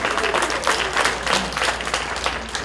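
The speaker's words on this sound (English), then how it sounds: "Again, I ask that you hold your applause" Audience members at a city commission study session burst into steady applause, a dense patter of clapping filling the room at moderate level for a few seconds.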